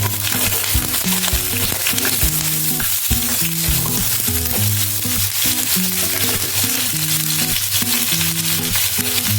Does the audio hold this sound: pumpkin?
yes